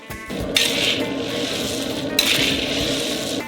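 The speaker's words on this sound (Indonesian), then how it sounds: "kita mengisi kuali dengan kacang mentah berikutnya. Dan goreng juga." Raw peanuts tumble into a wok for frying, part of a 50 kg batch for a giant Snickers ice cream. Two loud, dense rattling pours sit close, each a rushing clatter of hard nuts against metal.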